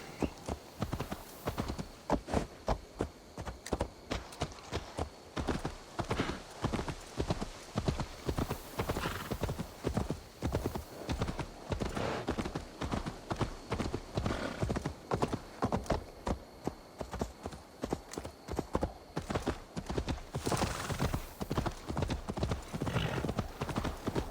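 Horse hooves clip-clopping in a steady, fast gallop rhythm throughout Assassin's Creed Valhalla, with an occasional neigh breaking through the loud, continuous hoofbeats.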